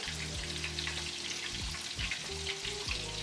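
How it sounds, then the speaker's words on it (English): A fresh catfish fillet frying in a cast iron skillet, a steady close sizzle and crackle of hot oil with occasional stirring or scraping sounds, loud and continuous with no talking. "Use my cast iron skillet because it gives me it fries it harder"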